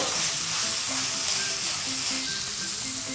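Water hits a hot pan of pork belly stir-fried with plenty of green onion, giving a loud, continuous sizzle and hiss with faint stirring underneath, close up and with no talk.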